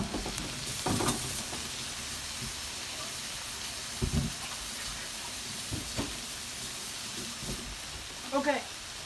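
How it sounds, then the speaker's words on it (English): Migas with enchilada sauce frying in a pan, giving a steady, moderately loud sizzle and hiss throughout, with occasional stirring scrapes and bumps and a few brief voice-like sounds near the end. "looks nice sizzle"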